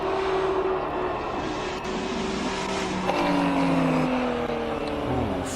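A Porsche race car climbs the Simola hillclimb course, its engine a steady continuous drone with rising and shifting pitch as it works through the gears, heard at moderate distance without any break.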